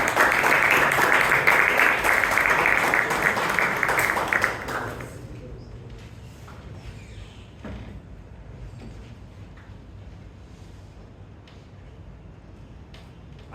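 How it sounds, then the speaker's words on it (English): Audience applause at a Toastmasters club meeting in Bangalore, a dense burst of clapping for about four seconds that cuts off sharply, leaving quiet room tone with faint movement. "Let's give a round of applause to DT and Vijayanand, who will be holding the general evaluation"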